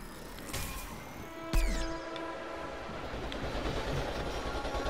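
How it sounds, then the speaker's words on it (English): A long train rolls past in the Plants vs. Zombies: Garden Warfare video game, a steady rumble with a sharp clank midway and a sustained horn-like tone, heard alone without talk. "This is a long train."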